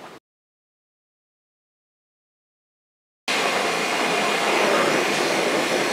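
A brazing torch heats copper pipe for silver brazing. After a brief noise and about three seconds of silence, a loud, steady hissing roar begins and holds to the end. No one speaks.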